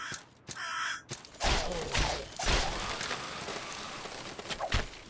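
Crows caw in the dark fantasy video game Salt and Sanctuary, a few harsh calls breaking through loud in-game thuds, footsteps and sweeping whooshes.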